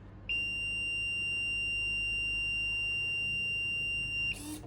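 An Arduino distance-sensor project's buzzer sounds one steady, piercing electronic tone for about four seconds, close and clear over faint background hum, before cutting off with a short clattering noise.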